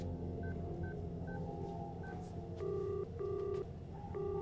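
Telephone keypad tones sound as a number is dialed: several short beeps first, then a few longer paired tones in an uneven rhythm, clear over a quiet background hum.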